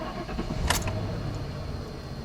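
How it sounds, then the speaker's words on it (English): A 1995 Ford Crown Victoria's engine cranks briefly and catches, with a short metallic jingle near the moment it fires, then settles into a steady low running rumble, close and fairly loud. "Okay, I'm going to try to crank it over."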